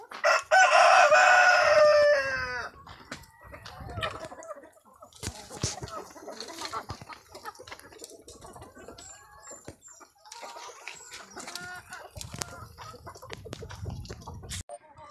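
Roosters crow loudly close by at a chicken farm, one long crow first, then more clucking and scattered calls from the flock and a few further crows at mid distance.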